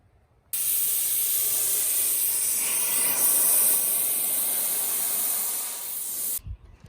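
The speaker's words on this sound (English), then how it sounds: "So we're gonna let this air dry for a while and hit it with a compressed air too." Compressed air blasts in one continuous loud hiss across a car headlight being restored, starting abruptly and stopping after about six seconds, followed by a brief soft thump.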